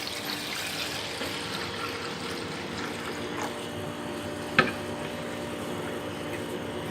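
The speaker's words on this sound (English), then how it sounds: "Pour sufficient buffer." Chilled transfer buffer for electrophoresis is poured into an apparatus, making a quiet, continuous watery trickle with one small knock partway through.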